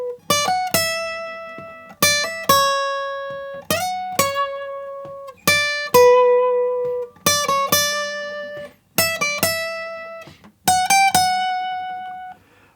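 Lead guitar line from the Clair Obscur: Expedition 33 theme, played as short bright phrases of a few quick notes, each group struck together and left to ring and fade before the next, close and unaccompanied.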